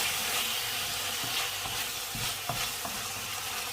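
Pork with red curry paste and eggplant stir-fries with fish sauce, crackling and sizzling steadily at close range while a utensil scrapes and tosses in repeated strokes.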